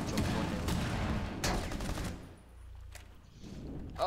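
Automatic gunfire in a competitive first-person shooter, several rapid bursts and single shots over about two seconds, loud and close, then a quieter stretch with a final report.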